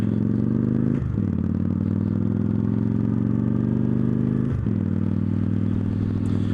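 A Victory Judge motorcycle engine hums steadily while riding through city streets, loud and close, with two brief dips in pitch as the rider shifts gears and no talk.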